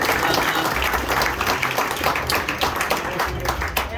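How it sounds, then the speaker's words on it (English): A crowd of road rally participants applauds at an event, dense steady clapping filling the space from start to finish, close and loud. "give yourselves a round of applause just for making it"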